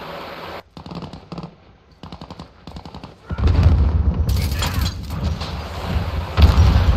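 Gunfire in Call of Duty Modern Warfare: short bursts of shots broken by brief silences, then a loud continuous stretch of heavy firing and impacts that carries on to the end.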